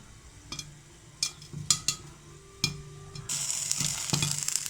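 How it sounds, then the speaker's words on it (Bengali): Corn kernels popping in a covered pan for sweet popcorn, several sharp, separate pops and clicks scattered irregularly against a low background, followed by a rising steady sizzle near the end. "ভুট্টাগুলো কিন্তু ফুটে উঠতেছে"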